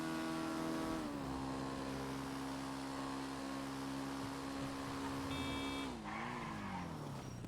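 A motorcycle in a video game carrying two riders drones steadily with a tonal engine note that dips and shifts pitch twice, under continuous game background sound.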